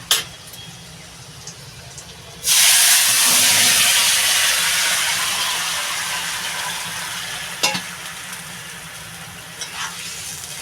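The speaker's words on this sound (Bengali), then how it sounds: "আমি এবার তরকারিটা ঢেলে দেবো" Curry vegetables tipped into hot oil with burnt garlic in a Bengali fish curry with helencha greens, bursting into a loud steady sizzle that slowly fades, with a couple of clinks near the end.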